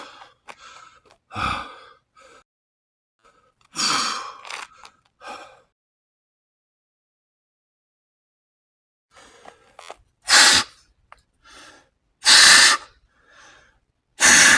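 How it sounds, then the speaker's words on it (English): Sharp, forceful exhales pushed out during a workout, several short bursts of breath separated by long silences, with a tight cluster of loud puffs near the end. "So I do exhale breathing. That means instead of taking in real fast, I push it out real fast."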